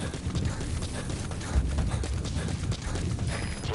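A horse's hooves clip-clop at a steady gait in the video game Metal Gear Solid 5, close and continuous against the surrounding game ambience.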